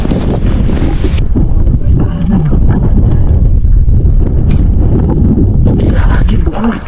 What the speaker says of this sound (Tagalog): Lumalakas yung hangin,